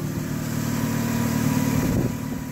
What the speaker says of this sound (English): All right, well, car is running.